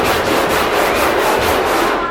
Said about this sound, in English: This takes a lot of elbow grease. I'm sanding, man,